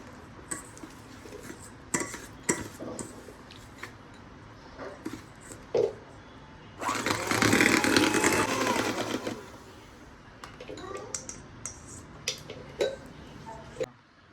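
Banana walnut cake batter mixed in a bowl, with scattered clinks and taps of a utensil and a dense whirring burst of several seconds in the middle, close and without talk.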